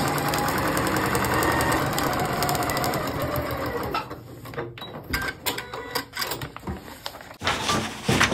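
Sewing machine stitching and backstitching across yarn for rag doll hair, a steady loud whirring run that breaks into short stop-start bursts toward the end.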